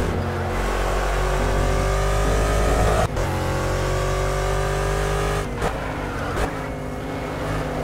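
A Ginetta race car engine in an online racing video game drones and revs steadily, with gear shifts and brief dips in pitch as the car accelerates, loud and close with no talk.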